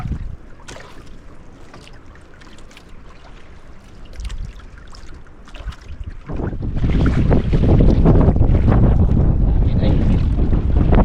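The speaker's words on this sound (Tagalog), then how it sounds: "Kasi malakas ang hangin." Strong wind at sea on a small fishing boat, a steady buffeting roar that builds sharply halfway through and stays loud, with a voice speaking under it early on.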